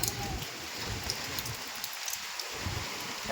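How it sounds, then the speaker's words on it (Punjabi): Steady heavy rain falling in Haryana, a dense broadband hiss of drops with soft patters, continuous and fairly close, no voices. "ਬਾਰਿਸ਼ ਹੋ ਰਹੀ ਹੈ"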